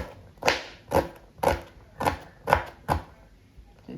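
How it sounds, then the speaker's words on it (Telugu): Knife chopping cluster beans into small pieces on a board, six crisp, evenly spaced cuts close up, with no voices. "ఓకే ఫ్రెండ్స్, ఇదిగో ఈ విధంగా చక్క చిన్న ముక్కలుగా పీసులుగా ఇలా కట్ చేసుకోవాలి."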